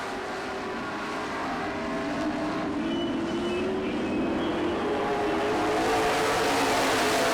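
Race cars roar around a dirt track, a continuous loud engine drone that rises slightly as the cars pass, with no talk.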